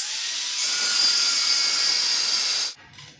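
Angle grinder cutting tile during wall tiling, a loud, steady high-pitched grinding whine held for over two seconds before the blade is lifted and the motor winds down.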